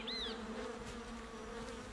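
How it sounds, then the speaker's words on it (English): Sand wasps buzzing near their nesting holes in the sand at a river's edge, a steady insect drone lasting throughout with a faint whine passing by, no talk. "Female sand wasps excavate 5-inch deep tunnels where they lay a single egg."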